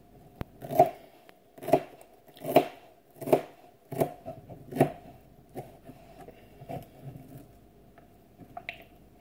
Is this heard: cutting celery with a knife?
yes